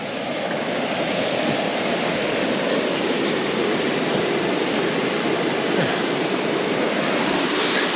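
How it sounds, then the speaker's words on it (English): A small waterfall beside a bridge on a forested hill path up to Ben Lui rushes in a steady, close, full roar of falling water with no voices over it. "nice little waterfall here."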